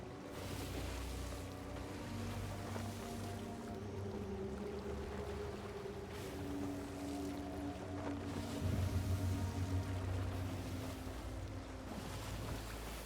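A sailing ship glides across the open sea at nightfall in Sea of Thieves, with steady rushing water, wind noise and low creaking tones, faint and continuous with no voices.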